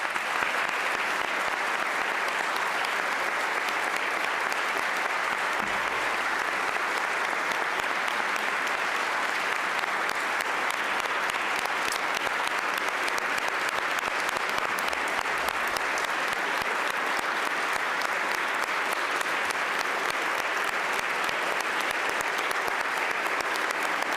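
Sustained applause fills the House chamber during a governor's budget address, a dense, even clatter of many hands clapping that holds steady at full strength for the whole stretch.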